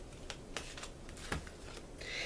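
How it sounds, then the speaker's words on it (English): Healing with the Angels oracle cards by Doreen Virtue being shuffled by hand, giving soft, irregular riffling and flicking sounds in a quiet room, with a brighter rustle at the end. "And I'm going to shuffle them up."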